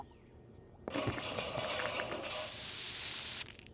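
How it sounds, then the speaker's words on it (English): A can of freezing spray sprays with a sharp, steady hiss for about two and a half seconds, then cuts off abruptly. "Anything you spray it on will freeze instantly."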